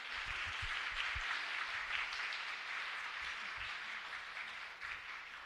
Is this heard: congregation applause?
yes